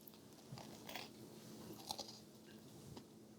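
Faint, close chewing of a soft piece of zucchini bread with a slight crust, quiet moist mouth sounds and a few small crunchy bites at irregular moments.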